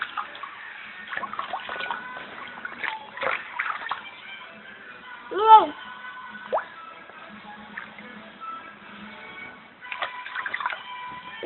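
Gentle water sloshing and dripping with small splashes now and then, one louder splash midway, close by and with no talking.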